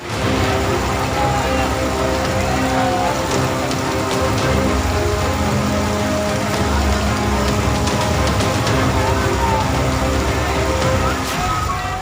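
Heavy rain pours steadily onto surfaces in the flooded city streets of Jodhpur, a dense, continuous hiss of drops with faint traffic rumble beneath.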